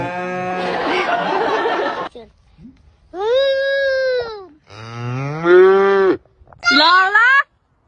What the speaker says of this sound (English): Get away from that cow, Lola!